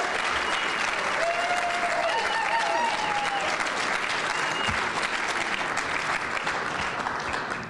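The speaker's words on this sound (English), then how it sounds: "give this guy a huge round of applause" Steady, dense applause from a large audience at a Westmont Chamber community awards dinner, loud and continuous for the whole stretch with a faint whistle and some voices mixed in.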